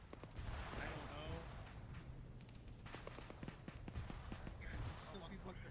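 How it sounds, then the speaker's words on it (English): Gunfire in Arma 3 during a firefight, with rapid sharp shots scattered throughout under a steady low rumble of battle, while people talk over the action. "Still people shooting at us"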